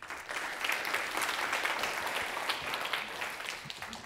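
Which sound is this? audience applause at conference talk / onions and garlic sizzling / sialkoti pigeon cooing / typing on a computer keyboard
audience applause at conference talk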